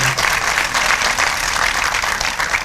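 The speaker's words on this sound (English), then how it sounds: "Clap for them." Audience applause fills a room at a celebration honoring a group of dapper men of color: a dense, steady wash of many hands clapping together, loud and sustained for the whole moment, with no break.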